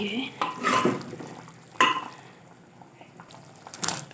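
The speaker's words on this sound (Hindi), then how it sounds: "अब इनको अच्छे से मैश करेंगे।" Boiled tomatoes mashed in dal water in a metal pot, heard as bursts of scraping, clattering stirring with quieter pauses between strokes.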